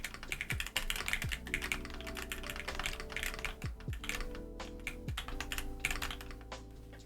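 Rapid, steady typing on a Keychron Q1 mechanical keyboard with a knob, fitted with yellow switches and Shoko keycaps: close, continuous clacky keystrokes over a sustained tonal backdrop.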